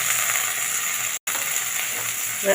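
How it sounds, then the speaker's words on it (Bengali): Potatoes frying in a pan for a vegetarian chana dal dish, giving a steady close hiss and sizzle throughout, broken by a brief cut of silence midway. "আলুটাকে আমি বেশ কিছুক্ষণ সময় ধরে ভেজে নেব"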